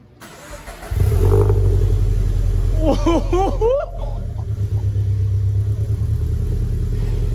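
A Subaru BRZ fitted with new headers cold-starts with a crank and catch, then rumbles loudly at a high idle, with a quick rising-and-falling rev blip before settling into a steady throaty drone.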